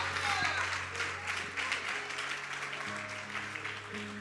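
A church congregation applauds the name of Jesus during a Portuguese-language sermon, a soft, moderate patter of clapping with sustained organ or keyboard tones underneath and a voice faintly present.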